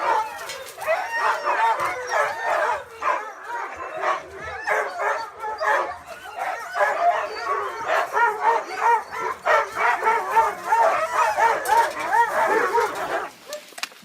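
Several sled dogs bark and yip in a steady, overlapping chorus at a Lapland kennel, with excited high yelps and whines mixed in, fairly close and continuous throughout.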